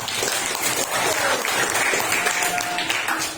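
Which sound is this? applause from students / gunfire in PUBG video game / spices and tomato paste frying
applause from students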